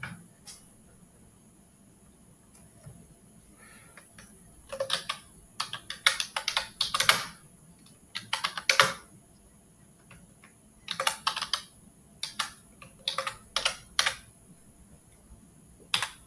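Typing a welcome message on a computer keyboard: close, quiet bursts of rapid key clicks separated by short pauses, over a faint room hum, with no talking.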